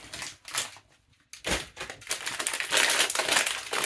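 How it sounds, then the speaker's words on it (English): Dry rice grains poured into a small fabric bag for a thrifted-fabric craft pumpkin, a close, continuous gritty rattle and crinkle that swells and thickens toward the end, with no voices. "Into that little bag you want to pop a bit of the rice."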